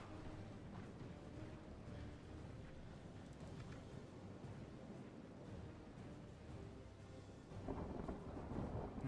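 Rumbling thunderstorm over a battlefield in the Middle-earth strategy game Third Age: Divide & Conquer, a dense continuous roar of rain and thunder that swells louder near the end, with no voices.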